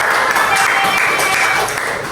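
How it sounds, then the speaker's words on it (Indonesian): A crowd applauds steadily for a couple of seconds, dense continuous clapping that stays fairly loud throughout. "Beri tepuk tangan untuk kelompok S."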